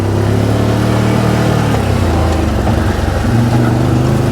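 Bennche Spire 800 UTV engine running steadily while driving across a yard, a loud, continuous close-up drone with a slight shift in pitch midway and no talking.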